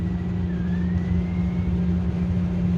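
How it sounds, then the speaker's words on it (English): A lab spin coater's spindle whirs steadily as it spins a substrate, giving a continuous low motor hum with a faint rising whine, close and constant throughout. "So I'll click run, you'll see the spinning of the substrate, you can hear the spindle."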